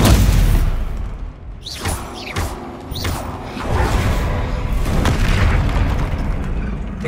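Stupefy spells fire in the Hogwarts Legacy video game with repeated loud booms and bursts, each marked by a quick whooshing sweep, over a sustained rumble of battle effects.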